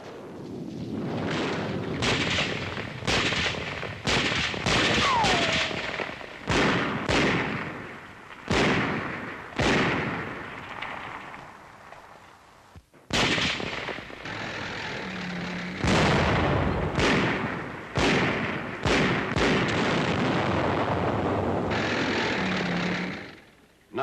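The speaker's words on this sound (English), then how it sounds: "Shelling the École Militaire, where German snipers are still entrenched." Artillery shelling and gunfire on the École Militaire in Paris, where German snipers are entrenched: loud, close, repeated blasts and cracks in an irregular rapid sequence, sustained over a steady rumble with no voices.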